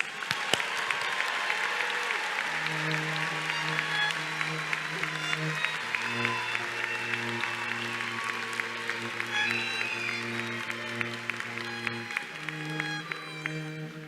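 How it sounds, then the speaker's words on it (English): Commencement audience applause for doctoral graduates rolls on steadily for many seconds, a broad crowd clapping under sustained organ or band chords that shift pitch midway. "Please give a round of applause for our doctoral graduates."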